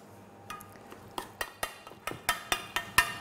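A utensil clinks and taps against a bowl while mixing a preparation of Vienna loaf, chives, lemon zest and truffle oil, about a dozen sharp, close knocks coming faster and louder toward the end.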